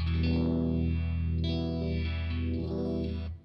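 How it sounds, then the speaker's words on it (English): Sustained guitar tone through a Uni-Vibe pedal, its throbbing, sweeping chorus-like modulation rising and falling in slow cycles, loud and alone, cutting off at the end. "When those two signals are mixed together at the end, that's when we get the univibe sound."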